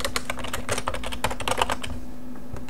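Fingers type quickly on a computer keyboard, a dense run of close, crisp key clicks in an uneven rhythm that slows and thins toward the end, with no talking.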